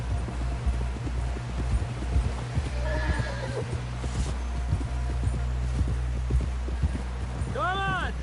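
A horse in the video game Red Dead Redemption 2 plods with steady clip-clopping hooves under a low rumbling bed of ambience, then lets out a loud rising whinny near the end, while characters talk over it.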